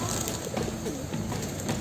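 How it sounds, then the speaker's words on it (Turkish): Pigeons cooing during feeding, a soft low warbling that rises and falls steadily under constant outdoor background noise, with no talk over it. "Bundan sonra geliriz güvercinleri beslemeye."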